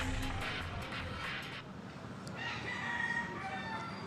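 A rooster crows once, clearly, among chickens imported from America for breeders at NAIA, against a noisy background.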